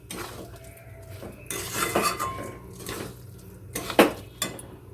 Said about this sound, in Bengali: চালটা দেওয়া হয়ে গেছে এবার চালটাকে আমি এর সাথে মিক্সড করে নিচ্ছি